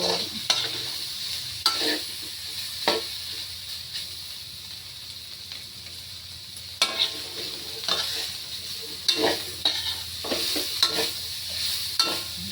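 Pork frying in its own rendered oil in a pan, a constant bright sizzle broken by repeated scraping stirs, close up and without any voices.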